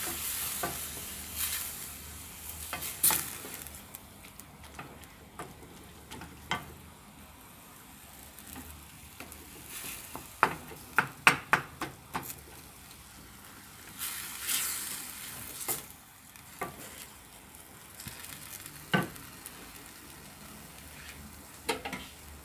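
Garlic fries in oil in a pan, a soft steady sizzle punctuated by scattered clicks and scrapes of stirring, quiet and close with no talking.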